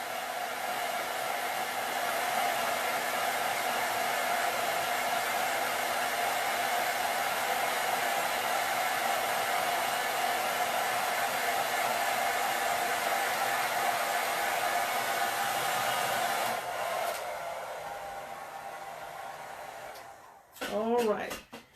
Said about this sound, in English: I'm going to use my blow dryer on a cool setting to go ahead and dry this